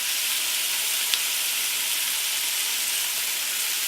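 Bacon frying in a pan gives a steady, dense, hissing sizzle, close and even throughout, with a couple of faint pops and no talking.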